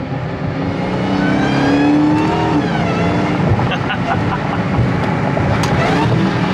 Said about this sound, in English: Listen to that, that was a quick downshift.